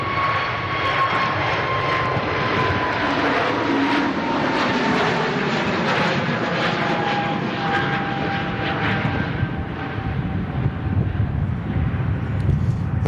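Jet2 Airbus A321neo airliner departing with a steady, broad engine roar and a whining tone, loud and sustained over several seconds with some wind buffeting on the microphone and no talking.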